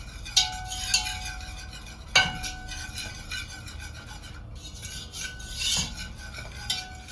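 Flour stirred into oil in a pot, a spoon scraping and clinking against the metal in a few sharp strokes over a faint background hiss.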